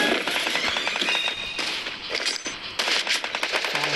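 Rapid shotgun fire from the M1014 and SPAS12 in the video game Free Fire: dense, loud back-to-back blasts in sustained strings with short pauses between volleys.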